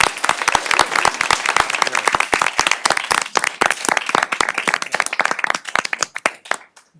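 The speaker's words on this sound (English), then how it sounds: "I'd like to give him a round of applause" A city council meeting audience gives a round of applause, with sharp, distinct hand claps from a modest group in a chamber, rapid and uneven, thinning out and fading away near the end.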